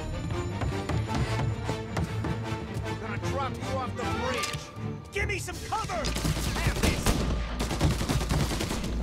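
Gunfire in Mafia Definitive Edition, rapid bursts of shots and repeated loud cracks mixed with shouting voices, dense and close throughout.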